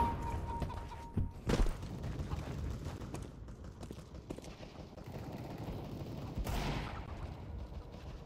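Gunfire in CS:GO: a few scattered shots and short bursts, moderately loud over a low game background, with two heavier blasts standing out near the start and toward the end.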